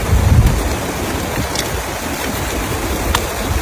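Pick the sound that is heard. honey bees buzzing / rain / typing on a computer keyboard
rain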